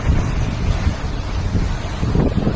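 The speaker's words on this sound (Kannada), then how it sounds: "ಅಲೆಗಳು ಬಂದು ಯಾವ ಥರ ಹೊಡಿತಿದ್ದಾವೆ" Heavy wind roaring across the microphone with the steady wash of sea waves breaking on a rocky shore near Nagapattinam underneath, continuous and loud.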